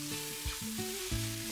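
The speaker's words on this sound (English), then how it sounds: "Then fry the rice for about 3 to 4 minutes." Rice fries in clarified butter with chopped coriander and fried onion for Indian-style mushroom fried rice, giving a steady close sizzle broken by a couple of quick stirring scrapes.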